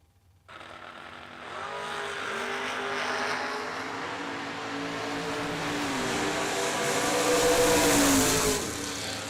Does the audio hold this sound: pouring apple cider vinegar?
no